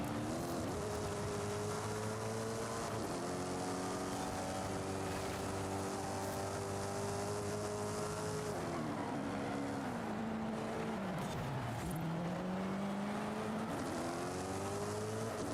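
Race car engine in Forza Horizon 5, revving steadily and loud, pitch dropping as it slows for a corner, then climbing again as it accelerates away, continuous throughout.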